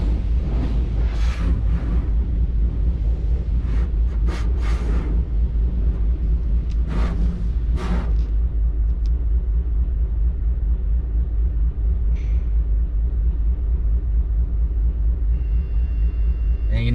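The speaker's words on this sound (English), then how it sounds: "So sit back, relax, check out this car wash." A car rolls through an automatic car wash, filled with a constant heavy low rumble and roar of machinery and spray, with occasional hissing bursts of water, close and without talk.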